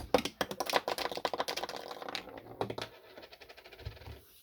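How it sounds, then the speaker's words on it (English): A Lego Bionicle 8755 Keetongu ripcord is yanked out to launch its spinner: a rapid burst of close, dry plastic ratcheting clicks that thins into scattered rattles and taps. "if you rip it out hard enough, the spinner will go away"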